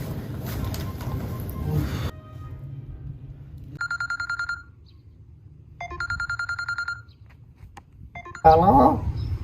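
An electronic telephone rings in two clear bursts of rapid, high warbling trills separated by quiet, with muffled voices and background noise before and after the rings.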